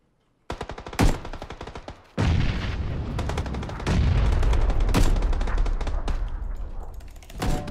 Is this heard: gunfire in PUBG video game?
yes